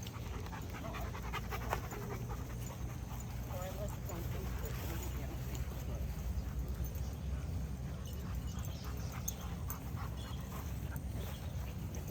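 Dogs pant rapidly and continuously at close range, with people talking faintly in the background.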